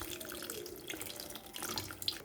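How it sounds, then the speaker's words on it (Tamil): Tamarind water pours into a pan of curry leaves curry, a steady close splashing trickle that runs continuously for a couple of seconds with no talking. "நம்ம புளி தண்ணியை சேர்த்துக்கலாம்"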